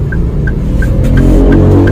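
A Toyota car pulls away as the clutch is released, its loud, close low engine drone holding steady, with a faint, regular ticking chime repeating over it.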